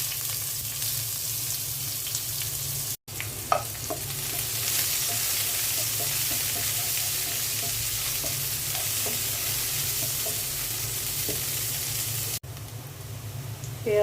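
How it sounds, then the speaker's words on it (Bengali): Onions go into hot oil in a cooking pot, sizzling and frying steadily for the whole stretch while being stirred, with occasional scraping clinks from the utensil and a short break partway through. "তেলটা গরম হয়ে গেছে, এখন আমি পেঁয়াজ দিয়ে দিচ্ছি।"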